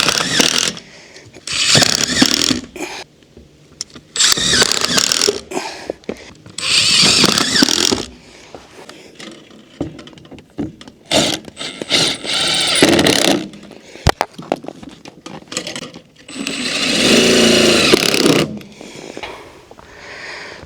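A power drill drives screws into a pipe on a roof, sounding in loud repeated bursts of whirring separated by short pauses, close by and alone.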